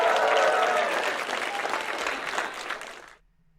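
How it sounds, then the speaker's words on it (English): A burst of crowd applause played from a sound-effect button, a dense clatter of clapping that starts at full strength and then tapers off, ending abruptly after about three seconds. "We heard the applause."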